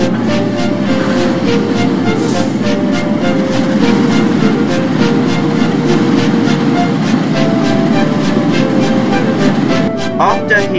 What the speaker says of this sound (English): Katie was shunting her goods train